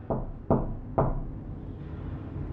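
Three sharp knocks strike an apartment door in even succession, each ringing briefly in a quiet room before fading into faint background hush.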